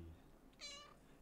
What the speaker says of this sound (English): You've been a noisy cat, haven't you?